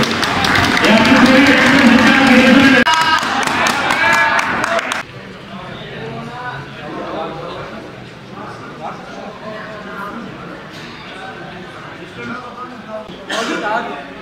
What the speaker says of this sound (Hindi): भरपूर तालियां यार इन लोगों के लिए।